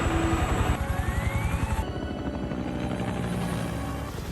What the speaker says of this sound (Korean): 상공에서 폭풍을 만난 헬기.